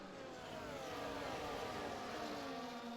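Race cars in a racing video game, set at the Hungarian Grand Prix, roar past in a steady high engine whine with rising and falling pitch as they overtake, loud and continuous with no talk.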